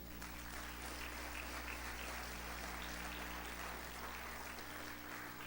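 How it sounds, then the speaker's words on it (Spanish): Church congregation applauding together, a faint, even patter of many hands held at a steady level throughout over a low hum, no voices heard. "Denle un fuerte aplauso al Señor"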